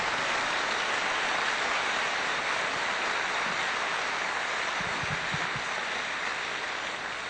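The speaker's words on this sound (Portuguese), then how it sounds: "E eu queria pedir um aplauso à grandeza de Jesus" A church congregation applauding: dense, steady clapping that fills the whole stretch at an even level, with no voices over it.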